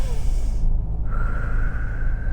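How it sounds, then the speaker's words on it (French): A deep breath drawn in through the nose, heard as a close, loud and sustained airy inhalation, with no one speaking. "Mais l'inspiration par le nez"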